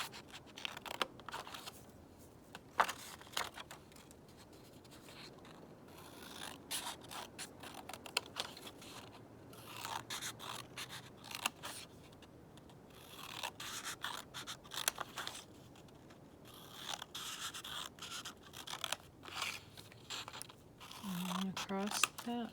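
Scissors cutting across paper during a children's storytime craft, a run of soft snips and scratchy slices, close and quiet, with a voice talking at times between the cuts.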